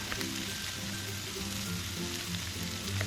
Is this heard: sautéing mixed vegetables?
yes